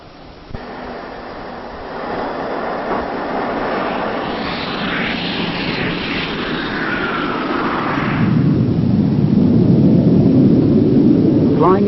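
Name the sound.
Jet Provost training jet aircraft flying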